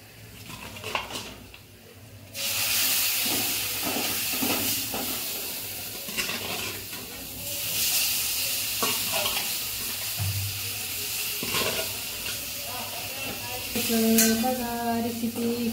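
Chicken curry with roasted spices sautéing in a pan, with a steady sizzle under repeated metallic clinks and scrapes of a utensil stirring against the pan, close and fairly loud.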